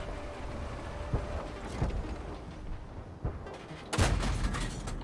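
Tank cannon fire in World of Tanks: a few muffled thuds over a low battle rumble, then one louder, sharp cannon blast near the end.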